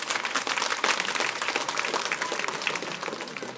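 Congregation at a Sunday Catholic Mass applauding the choir leader, a steady wash of many hands clapping from a moderate distance, holding even before easing slightly at the end.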